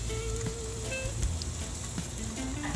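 Jamaican jerk salmon sizzling in a pan, a constant crackling hiss of frying oil at close range, with faint background tones and no talking over it.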